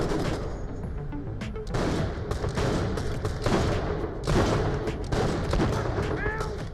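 A revolver fires sniping shots in Borderlands: The Pre-Sequel, with repeated sharp cracks and bursts of gunfire over a steady din of game noise.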